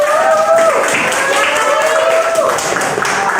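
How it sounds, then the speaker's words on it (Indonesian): A classroom of students claps for the winning group after a game, brisk and fairly loud, with voices and cheering mixed into the clapping. "Tepuk tangan untuk kelompok 2."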